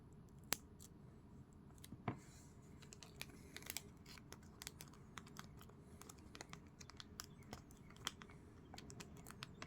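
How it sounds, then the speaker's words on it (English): A trading card pack is sliced open with an X-Acto blade, producing scattered quiet clicks, scratches and crinkling of wrapper plastic, faint and close, with no voices. "this is my first time trying to open up packs with an X-Acto blade"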